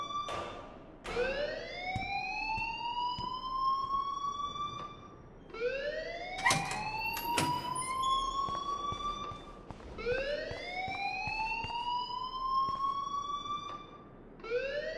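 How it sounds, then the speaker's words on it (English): A fire alarm in the Life Is Strange video game wails in repeated rising sweeps, about every three seconds, steady and moderately loud with faint room noise between cycles. "please turn off that alarm since that's your job"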